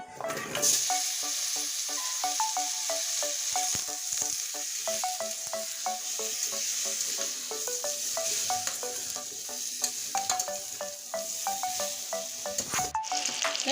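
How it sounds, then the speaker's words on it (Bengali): Unpeeled potatoes sizzling in hot oil for a fish curry, a dense, steady crackle and hiss with frequent sharp pops and spatters, close and continuous with no talking. "এবার খোসা সমেত আলুগুলো তেলের উপরে ছেড়ে নিচ্ছি"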